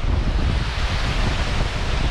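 River rapids on the Sand River along the Lake Superior coast in Ontario, a loud, steady broadband rush of churning water, close by and mixed with wind buffeting.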